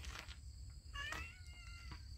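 A cat meows a couple of times, a short rising cry in the middle, fairly close, over low outdoor background noise on Mt Yangbew.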